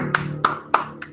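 Students in a classroom clap together in four sharp, evenly spaced bursts, each loud, close and quickly fading.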